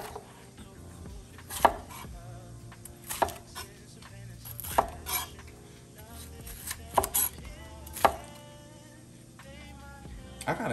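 A knife cubes red and green peppers and an onion on a cutting board, with irregular sharp chopping knocks spaced a second or so apart and a few faint clinks between them.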